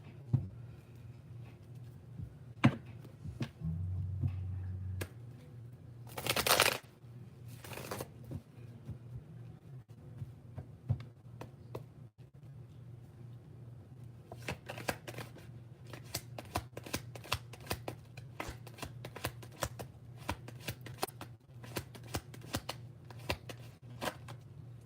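Tarot cards being handled and shuffled nearby, with scattered soft taps early on and then a dense run of quick riffling flicks in the second half, all over a low steady hum.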